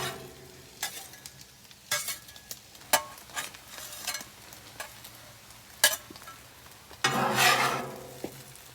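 Eggs frying on a 28-inch Blackstone griddle for breakfast burritos, a soft steady sizzle broken by sharp scraping and stirring strokes of a spatula, with a louder hiss burst near the end.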